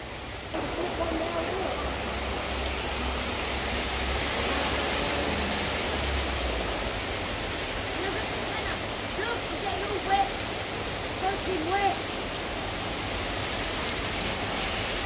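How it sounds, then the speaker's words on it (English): Heavy rain pours down in London in a dense, steady hiss that fills the whole scene, with occasional faint patters and distant background sounds beneath it. "heavy rain in London."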